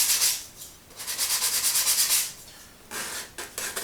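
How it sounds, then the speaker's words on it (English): Sandpaper rubs over handmade pottery throwing sticks in close, rhythmic scratchy strokes that come in bursts with short pauses between them. "I'm in the process of sandpapering, and I give them a once over with the sandpaper"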